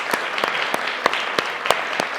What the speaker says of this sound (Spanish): démosle un último aplauso a Víctor